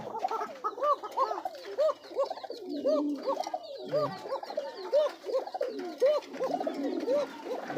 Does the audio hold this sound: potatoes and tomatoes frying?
no